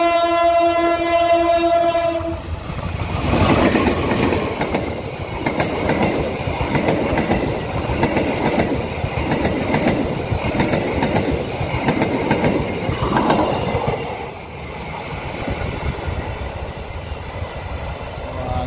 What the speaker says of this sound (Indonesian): Ngebut kereta apinya teman-teman.